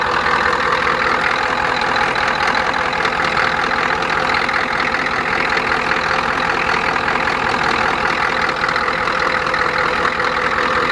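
A 1985 Ford 6.9 IDI turbo diesel truck engine idles steadily and loudly up close, a constant rough clattering drone with no pauses and no talking throughout.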